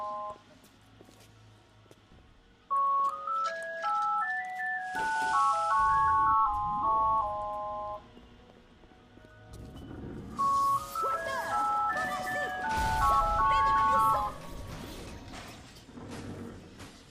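Incoming call in a video game, BioShock, heard as a melodic electronic ringtone jingle that plays twice with a pause between, over low mechanical game ambience and creaks, fairly close and loud, with no speech.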